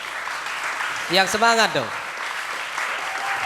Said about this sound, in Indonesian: Saya minta tepuk tangannya untuk PKS.